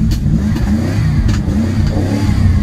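An old Ford truck engine revs hard just after a cold start, throttle pumped in uneven surges, loud and close with a rough mid-range roar.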